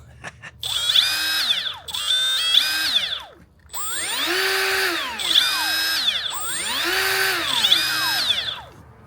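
A Hercules cordless right-angle die grinder revs up and whines through repeated high-pitched grinding passes, rising and falling in pitch, with a brief pause midway.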